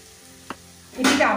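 A spoon stirs tamarind sauce mixed with mustard paste in a hot pan. After a quiet lead-in and a single brief knock, a loud sizzling and scraping swell takes over for the final half second.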